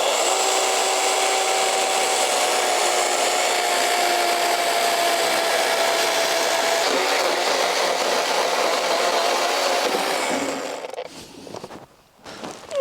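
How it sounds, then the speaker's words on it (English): A small electric chainsaw cuts through wood outdoors with a loud, steady buzzing whine held for about ten seconds before it winds down and stops near the end. "I got my little electric chainsaw in the truck, so let's cut it with this."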